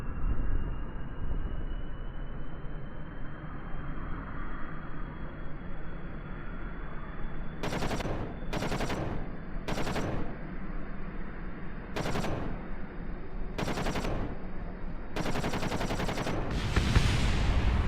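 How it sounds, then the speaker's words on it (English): Short bursts of chain gun fire from a VTOL aircraft in Kerbal Space Program ring out over a steady engine drone, about seven separate rattling volleys spread across the second half, the last one longer and sustained. "a chain gun will do it"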